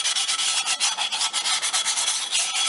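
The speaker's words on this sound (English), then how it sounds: "I hope that's not too unnerving, you guys, the sound of the sandpaper." Close, quick back-and-forth strokes of sandpaper rubbing on a small wooden desert pedestal or bird feeder, a dry scratchy rasp in steady rhythm with no speech.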